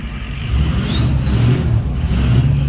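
Duramax diesel truck engine roaring steadily under load, a loud continuous low rumble with a rising and falling whine riding over it as it revs, close by and without talk.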